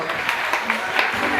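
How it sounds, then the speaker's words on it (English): An audience at a school ceremony gives a round of applause, loud, steady clapping with voices mixed in among the claps. "Let's welcome and come with a round of applause."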